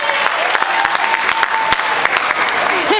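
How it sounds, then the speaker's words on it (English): Guests at a 45th wedding anniversary party clap loudly and continuously, a close, crowded burst of many hands with faint murmuring from the room underneath. "You keep clapping. I like that."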